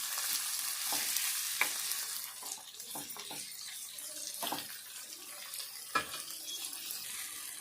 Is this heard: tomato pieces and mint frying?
yes